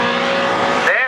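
A race car crosses the finish line at Brands Hatch during a 2010 paddock-class race, a loud close engine note sweeping past and shifting pitch, with a commentator talking over it throughout.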